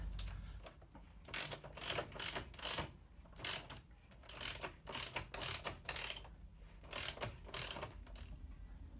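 Close, rapid ratchet clicks in steady bursts while bolts are run into the crash protection on a KTM Duke motorcycle, with brief gaps between strokes and no voices.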